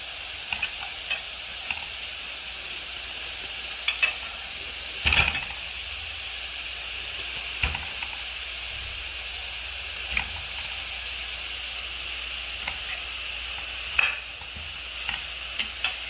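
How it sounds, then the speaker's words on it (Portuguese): Meat stirred and fried in a pan while making hot dog filling, a steady sizzling hiss with occasional scrapes and clinks of a utensil against the pan, close and alone with no talk. "Nessa panela que eu vou colocar a carne."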